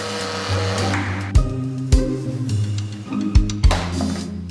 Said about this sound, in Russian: Перемешиваем ручным блендером.